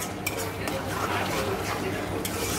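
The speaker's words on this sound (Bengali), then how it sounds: "দেখো আমি মশলাটা কষিয়ে নিচ্ছি নুন হলুদ মিষ্টি দিয়ে, ভালো করে কষিয়ে মটরটা ঢেলে দেবো।" Spice masala with salt, turmeric and sugar is fried and stirred in a pan for ghugni; a utensil clinks and scrapes against the metal under a low sizzle while someone talks.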